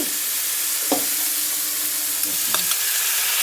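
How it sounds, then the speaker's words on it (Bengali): Shrimp frying in hot oil in a pan while cooking pumpkin greens, a steady bright sizzle with a few clinks of a spatula stirring, close and continuous, no talking. "এরপরে চিনি মাছটা তেলের মধ্যে দিই"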